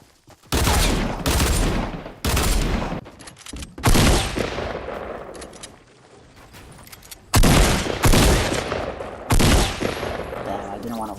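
Loud Fortnite gunfire in several heavy bursts of rapid shots, each lasting about a second with short gaps between them, close and punchy, with a brief lull partway through.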